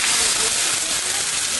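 Butter boils and splatters hard around a steak in a hot pan, a loud, steady, broadband hiss with no gaps throughout.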